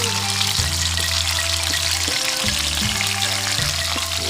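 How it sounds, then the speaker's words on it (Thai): Termite mushrooms frying in oil in a pan give a steady, loud, dense sizzle and crackle that fills the whole clip, with a low hum underneath and no talking. "นี่ครับเห็ดโคนเราครับจะลงทอดแล้วครับ"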